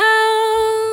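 A vocal chop sample from an FL Studio Afro beat: a single bright sustained sung tone, loud and clean, holding one pitch for about a second with a slight fade.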